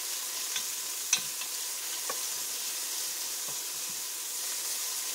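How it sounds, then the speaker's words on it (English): Minced garlic sizzling in a pan for white chicken chili, a steady close frying hiss with a few faint ticks and pops and no talking. "you're going to cook the garlic until it turns fragrant"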